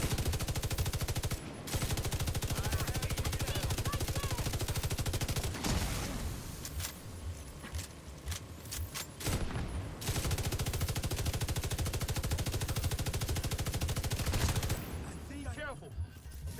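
A big gun fires in rapid bursts in a video game, dense loud rattling volleys that pause briefly near six and ten seconds before resuming, with faint voices underneath.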